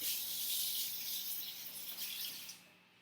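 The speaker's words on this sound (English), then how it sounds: "I'm going to rinse off my banana spoon." Tap water runs steadily into a kitchen sink as a spoon is rinsed, a soft close splashing hiss lasting a few seconds before shutting off.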